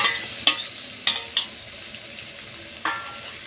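Fried prawns hit potatoes in a hot pan, a soft continuous sizzle punctuated by several sharp metallic clinks and scrapes of stirring, close and with no voices.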